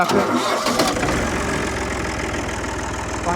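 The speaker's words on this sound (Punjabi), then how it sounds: "ਦੁਬਾਰਾ ਫੇਰ ਤੁਹਾਨੂੰ ਸਟਾਰਟ ਕਰਕੇ ਦਿਖਾ ਦਿੰਦੇ ਆ" An Al-Ghazi tractor engine cranks and catches, then settles into a steady, loud diesel rumble close by with a rhythmic knock throughout, no voices over it.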